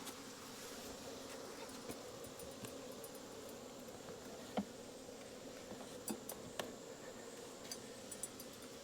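Honey bees buzz steadily around an open hive, a dense continuous drone with faint ticks and a few brief clicks standing out, no voices.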